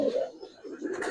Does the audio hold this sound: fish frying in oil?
no